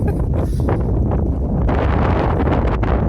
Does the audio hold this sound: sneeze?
no